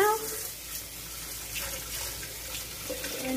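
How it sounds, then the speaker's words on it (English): Kitchen water tap running steadily while a spatula is rinsed, a continuous close hiss of flowing water with faint clinks, under quiet background voices. "rinse off the spatula a little bit"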